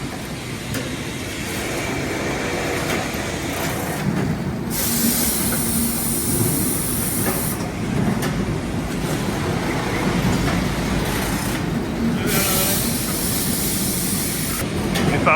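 Potato bagging machine that lifts sacks with air pressure, a steady mechanical rumble and hiss running throughout with repeated bursts of blowing air at regular intervals, close and fairly loud.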